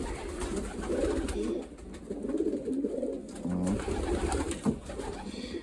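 Domestic pigeons kept by a fancier coo and burble in a loft, a continuous low rolling chorus of several birds close by, with soft rustling and no talk.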